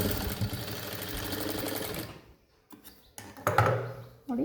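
A sewing machine stitches a semi high neck blouse in a loud, close run of rapid needle strokes for about two seconds, then stops, leaving short clicks and handling noises as a voice speaks.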